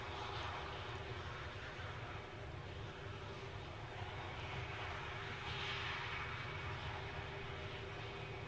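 An Airbus A380 on landing approach at Glasgow Airport, a steady, sustained roar of engines with a low rumble and airy whoosh, fairly distant and continuous without talk.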